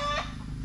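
A brief cluck from a chicken, close and short, over low background noise, on a rural farm in the Philippines.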